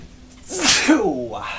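A single loud, close sneeze with a sharp intake and burst, standing alone in a quiet room between stretches of podcast chatter.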